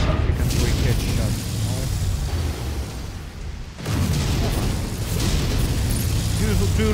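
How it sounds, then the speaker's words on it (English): Loud, dense blasts and rumbling impacts of a missile striking a mech in a mech combat video game, a sustained roar that briefly dips before surging again, with a voice talking over the din. "Incoming missile."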